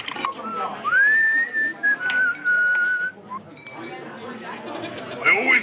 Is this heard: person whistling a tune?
yes